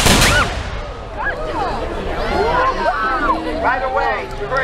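A volley of 18th-century muskets fired by Spanish guards, one loud sharp blast at the start followed by a rolling echo, with a crowd chattering and shouting around it.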